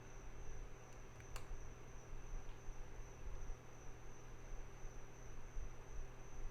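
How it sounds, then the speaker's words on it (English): Crickets chirp steadily outside an open window, a faint, continuous high trill running under a low background hum. "You might be hearing crickets in the background."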